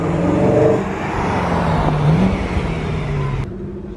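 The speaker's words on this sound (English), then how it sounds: "You kind of know what sort of revs you're at." A 414 bhp BMW E92 M3 engine hums and revs steadily from inside the car, with the pitch rising and falling slightly under continuous road and cabin noise.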